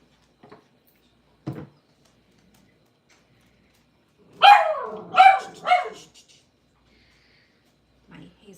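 A jealous pet dog named Hazel barks in a quick cluster of three or four loud, close yips indoors, surrounded by near silence with a few faint soft knocks before and after.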